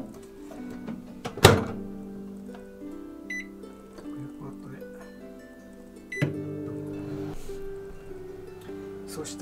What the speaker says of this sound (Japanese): ラップでこうやって包んで電子レンジで1分、